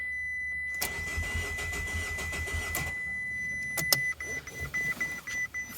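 A Fiat 500 Abarth engine cranks over three times during a compression test, a rhythmic starter churn close by, followed by clicks and a quieter pause.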